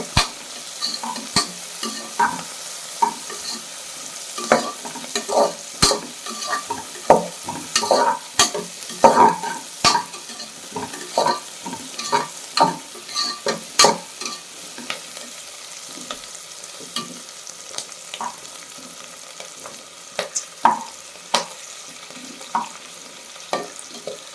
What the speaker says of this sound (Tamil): அந்த மிளகாலாம் வெள்ளையாக வரும், வெள்ளை கலருக்கு.